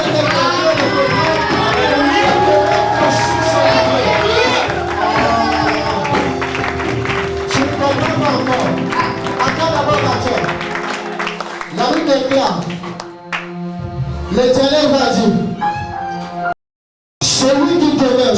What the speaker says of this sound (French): Je pensais que tu allais faire quelques acclamations